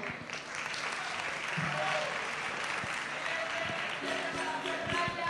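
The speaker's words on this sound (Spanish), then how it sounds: "her González, del Vicerrectorado de Alumnos, un aplauso." Sustained crowd applause at a university tuna music competition awards ceremony, steady and moderately loud with faint voices mixed underneath.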